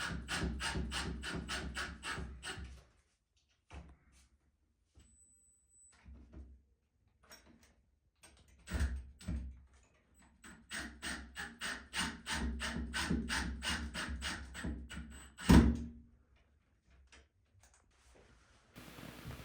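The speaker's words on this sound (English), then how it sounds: "Tighten down the screws into the cleats." Series of sharp, rapid mechanical bursts from a power drill driving screws into cleats while installing a Kohler sliding bath door, in two clusters with pauses between, plus a loud knock near the end.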